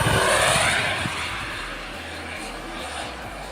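A Grumman F9F Cougar RC jet model aircraft flies by with a loud rushing jet roar that is strongest at the start, then fades to a steady, more distant hiss.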